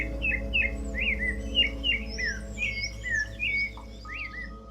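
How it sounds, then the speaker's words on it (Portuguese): Mountain birds sing in the Portuguese mountains, repeated bright chirps and whistled phrases in quick series over a low steady hum, moderately near, with no voices. "O canto constante das aves da montanha, mesmo no topo, pode ser ouvido à distância."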